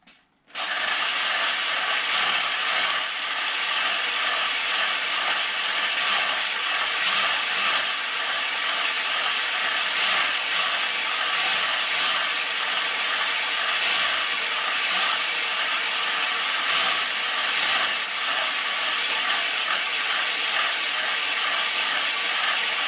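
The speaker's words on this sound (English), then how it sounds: "Just boring out my cylinders" Stone hone working inside engine cylinders during a rebuild, a continuous loud grinding and chattering whir that holds steady and unbroken throughout, close by with no talking.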